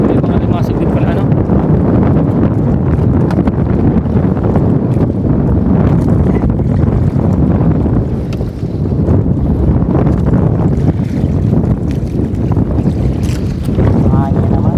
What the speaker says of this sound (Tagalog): Mahangin naman. Mahangin ano?